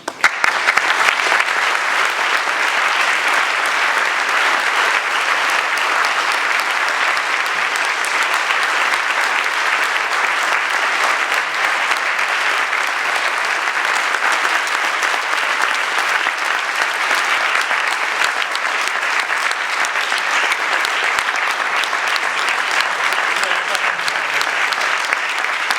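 Sustained, loud applause from a lecture audience at UCL after a talk on the Armenian genocide, dense and steady clapping filling the hall without pause for the whole stretch.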